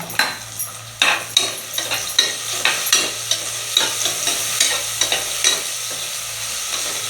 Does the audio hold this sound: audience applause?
no